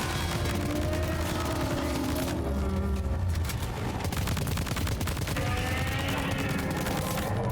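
Sustained rapid gunfire from an assault rifle in Death Stranding 2, loud and close, with dense overlapping bursts and impacts continuing throughout with barely a pause.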